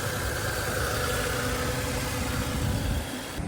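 A 3-litre car engine idling at a car market in Daşoguz, a steady low rumble with constant vibration held close and even for a few seconds, no voices.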